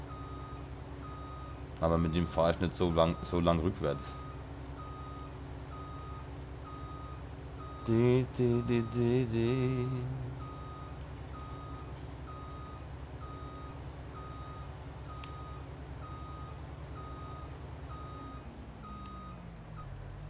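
In Landwirtschafts-Simulator 19, a farm vehicle gives off steady reversing beeps, a regular pulse of short tones over a continuous engine rumble during corn harvesting, while someone talks in two short bursts and the engine note falls away at the end.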